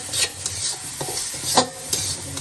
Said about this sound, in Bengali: এই যে পেঁয়াজ কষানো হয়ে গেছে